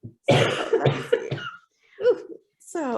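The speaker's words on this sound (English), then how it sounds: "So, yeah, excuse all the coughing." Someone with a lingering cold coughing in short, close bursts, a cluster of harsh coughs followed by a pause and then a couple more rough coughs and throat sounds.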